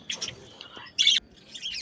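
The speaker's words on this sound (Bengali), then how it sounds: "দেখো ওই যে জাভা পাখি, মেল পাখিটি হাড়ির মধ্যে ঢুকছে।" Java sparrows chirping in quick, bright bursts, with one louder, sharper call in the middle and softer twittering around it, fairly close.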